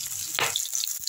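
Grated ginger hitting hot oil with green chillies in a pan, a brief close sizzle with a sharp burst of frying near the start.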